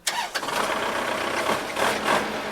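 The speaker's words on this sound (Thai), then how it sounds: "ฟังเสียงเครื่องครับ" A Kubota tractor's 50-horsepower four-cylinder direct-injection diesel engine starts up, a sharp crank and catch followed immediately by a loud, close, rough idle with a few revs.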